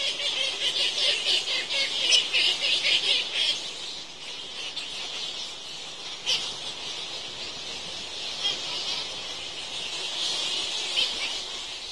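Straw-coloured fruit bats squabbling at a crowded roost in Kasanka National Park, a constant dense wash of high chattering squeaks and calls with no pauses, steady and fairly loud throughout.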